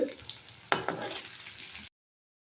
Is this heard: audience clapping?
no